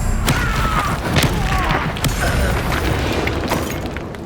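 A Confringo blasting curse explodes in the Hogwarts Legacy video game: a deep boom and several sharp bursts and crackles land in quick succession over a rumbling bed, loud and close.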